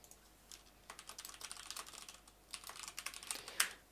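Computer keyboard typing, soft quick bursts of key clicks in short runs with small pauses, close and fairly quiet.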